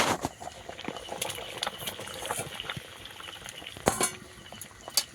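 Cauliflower and fish go into a simmering pot of potato curry, with light clinks of a utensil and soft stirring over a low bubbling background, and no talking.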